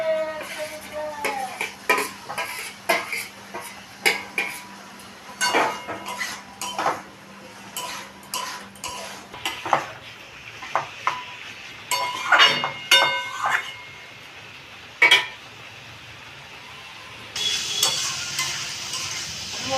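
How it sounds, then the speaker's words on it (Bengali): Paneer is stirred into spiced masala in a pan, a metal spoon clinking and scraping against the pan in rapid irregular strokes, close and fairly loud, with brief pauses between bursts. "এবার আমি পনিরগুলো দিয়ে ভালোভাবে কষিয়ে নামিয়ে নেব"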